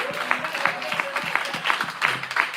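A church congregation applauds during a Sunday worship service, with rhythmic, moderately faint clapping and a faint tonal voice-like sound mixed in.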